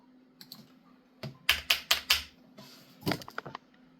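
Typing on a GMMK Pro mechanical keyboard: a few scattered keystrokes, then a quick run of crisp, loud clacks, then a looser cluster of lighter taps, all close up with no talking.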